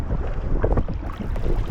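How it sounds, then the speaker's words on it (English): Strong, unexpected wind buffets a kayaker on Lake Superior near Marquette, a loud, rough gusting roar against the microphone with water sloshing around the boat, steady throughout. "This wind is unexpected."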